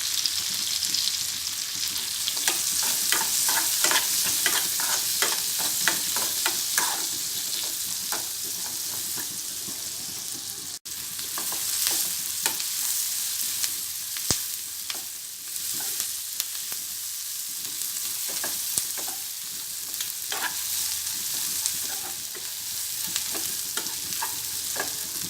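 Chopped onions, cumin seeds and curry leaves frying in hot oil for a pepper egg fry, with a steady close sizzle broken by frequent scraping and clicking strokes of a stirring spoon throughout, and no talking.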